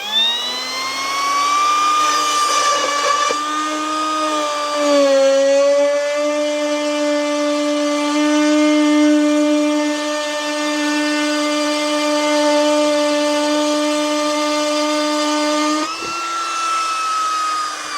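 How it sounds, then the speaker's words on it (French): An Einhell TP-RO 18 cordless router fitted with a groove bit cuts a slot in wood, giving a loud, steady high-pitched whine that holds for about twelve seconds with a slight pitch dip under load before spinning down near the end. "Voyons maintenant ce que donne le rainurage, cette fois-ci en utilisant le module défonceuse."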